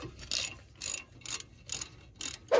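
Ratchet wrench backing out 10 mm brake line bolts on a 2004 Chevy Trailblazer, five quick bursts of close clicking spaced about half a second apart, ending with a sharper metallic tick.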